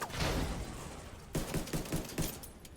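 Pistol shots in The Division 2 amid battle noise in the Air & Space Museum, a cluster of sharp, separate cracks in the second half that ring over a steady, muffled combat din.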